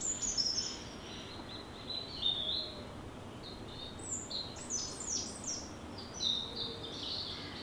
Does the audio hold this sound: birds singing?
yes